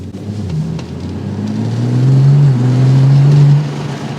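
A BMW M140i with a B58 engine and an Osprey V3 intake revs up close, a loud deep drone climbing steadily in pitch, holding, then easing back.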